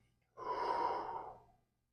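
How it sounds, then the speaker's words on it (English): A single deep, steady exhale during box breathing at the start of a yoga class, one long breath of about a second and a quarter, close and fairly soft, with no talking. "Empty out all the breath you have now."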